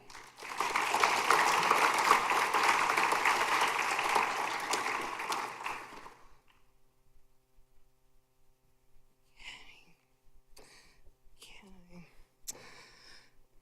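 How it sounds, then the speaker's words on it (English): Audience applause at a high school senior scholarship awards ceremony, a dense burst of clapping for about six seconds that stops abruptly, followed by quiet with faint scattered voices. "So please join me in applauding Smriti Kanuga."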